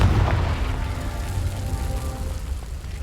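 Continuous rumbling blast from a Confringo fire spell in Hogwarts Legacy, a loud, sustained low boom with crackling debris that holds steady for about three seconds without any voices.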